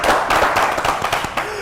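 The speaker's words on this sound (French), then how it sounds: "C'est applaudi." A short burst of audience clapping at a studio talk show, close and irregular, with a voice briefly over it.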